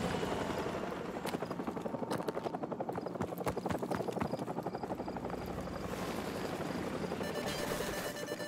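A helicopter in Call of Duty 4 thrums with fast, rhythmic rotor chopping over dense battle noise, loud and sustained throughout.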